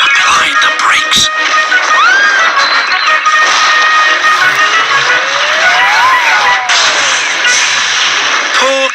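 Cartoon train brakes screech and skid as Thomas the tank engine slows, loud rising and falling metallic squeals over clattering rail noise and music, with a narrator's voice over the effects.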